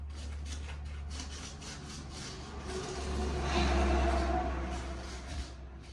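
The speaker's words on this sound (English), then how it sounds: "I'm going to sand that mold" Sandpaper of 120 grit rubs over a PVC shower drain mold for an Oates two-part shower base drain, a steady close scraping hiss that swells louder in the middle strokes, with no talking.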